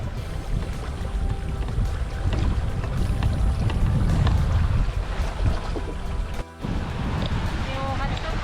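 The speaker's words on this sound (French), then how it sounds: "Il n'y a pas des grosses vagues, mais il y a du vent." A sailboat pushes through the sea in strong wind between Gibraltar and the Canaries, with steady roaring gusts, splashing water and creaking rigging, loud and continuous.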